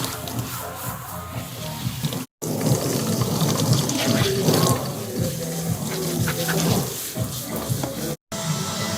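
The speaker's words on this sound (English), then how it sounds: "Hair washing done." Water runs steadily from a salon sink faucet while hair is being washed, with a continuous splashing rush that is briefly interrupted twice, and faint voices murmur underneath.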